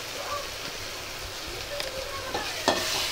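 Green chilli, onion, tomato and crushed peanut chutney roasts in a pan over medium gas, a steady close sizzle with occasional scraping stirs and small clinks, no talk heard.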